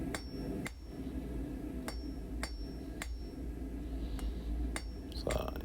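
A blacksmith hammers a sharp square taper into a round steel bar, sharp metallic ringing strikes landing at an uneven, unhurried pace over a low steady background hum.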